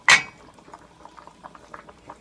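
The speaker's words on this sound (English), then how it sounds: "So when it's boiling again, I think it's done." Broth with shrimp and tofu, seasoned with Korean chili paste, boiling in a pot: a sharp clink at the start, then soft, irregular bubbling and popping close by, with no talking.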